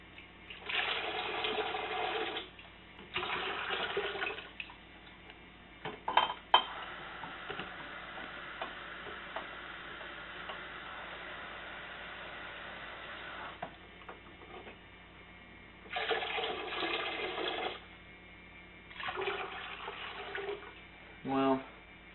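Hot water running from a tap into jugs for sweet tea comes in several bursts of rushing, splashing flow, separated by quieter gaps with ticking and clinks, close by and without talk.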